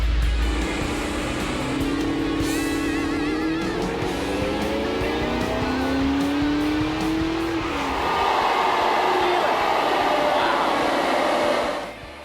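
A supercharged 4.6L Aluminator V8 in a Ford Ranger roars on a dyno, revs climbing steadily through a pull with supercharger whine, then holding loud at the top before dropping off near the end.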